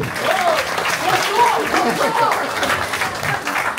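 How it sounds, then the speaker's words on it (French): A standing crowd at a campsite gathering bursts into loud, continuous applause that keeps going without a break, with cheering voices and speech mixed into the clapping. "Qu'on se lève et qu'on applaudisse, s'il vous plaît"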